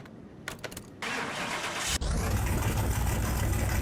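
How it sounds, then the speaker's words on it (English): A Plum Crazy Purple Plymouth Cuda starting up in the video game Car Mechanic Simulator 2021: a brief cranking, then the engine catches with a loud, deep, steady rumble that settles into a heavy idle, close up and with no talking. "Like, listen to that engine sound."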